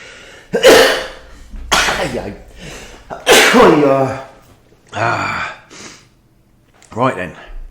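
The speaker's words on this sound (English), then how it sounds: "It's time for my morning sneeze." A person sneezes during a chess commentary, with sharp breathy bursts and gasps clustered close to the microphone, and a voice talks around them.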